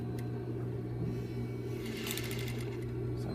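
Sewing machine stitching gathering rows around a sleeve cap, a fast steady mechanical whir with a constant hum and light clicking, close and continuous.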